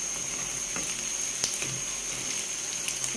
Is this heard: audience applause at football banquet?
no